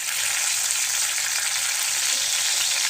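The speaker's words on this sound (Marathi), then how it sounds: "कढीपत्ता घातला." Curry leaves crackle in hot oil for a tempering, giving a dense, even, continuous sizzle close by, with no voices.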